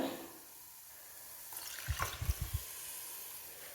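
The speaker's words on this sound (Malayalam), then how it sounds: "പുളിവെള്ളം ഒഴിച്ചു കൊടുക്കാം" A brief splash of tamarind water being poured into a pot of coconut mackerel curry, a few soft gurgling pulses over a quiet background hiss.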